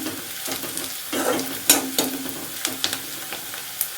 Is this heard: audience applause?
no